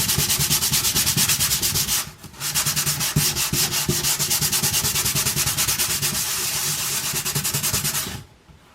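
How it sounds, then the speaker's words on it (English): Hand sanding of a paper mache cosplay shoulder pauldron, quick continuous back-and-forth rasping strokes up close, with one brief pause early on and an abrupt stop at the end. "I just want to give it a really light sand"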